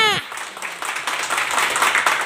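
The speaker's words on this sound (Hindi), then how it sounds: "जोरदार ताली होनी चाहिए।" Applause breaks out at a business plan meeting right after a speaker's voice stops, a dense burst of many hands clapping that holds steady for the rest of the moment.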